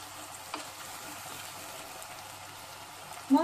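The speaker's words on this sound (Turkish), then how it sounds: "Şöyle kenarından yavaş yavaş karıştırarak kavuracağız." Salted mushrooms sauté in a pan and are stirred slowly around the edges, giving a soft, steady frying sizzle that runs evenly throughout with only a faint clink near the end.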